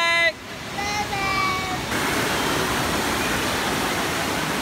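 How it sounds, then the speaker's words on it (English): Rushing water at an indoor water park, a steady broad roar of splashing and spray that fills the scene after a brief moment of voices and tonal chatter at the start. "We're at the water park."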